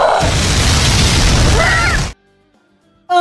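A wyvern monster blows apart in a deep, roaring animated explosion that rumbles on for about two seconds, then cuts to near silence before a brief new sound begins.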